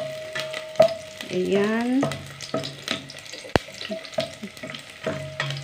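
Four cloves of garlic frying in a pot of oil for chicken soup, a steady sizzle with stirring scrapes and clinks, under a brief spoken word.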